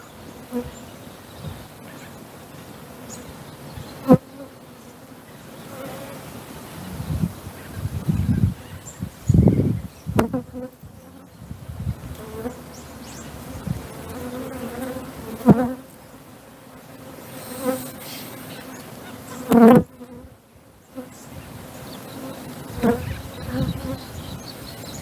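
Honeybees buzzing steadily around an open beehive during a beekeeping workshop demonstration, a continuous close drone with occasional louder swells as bees pass near, with no talk.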